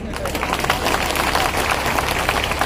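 A large crowd of farmers at a political rally in Ashoknagar breaks into loud, dense applause, a thick continuous roar of clapping with murmuring voices underneath.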